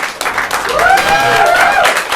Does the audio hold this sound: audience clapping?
yes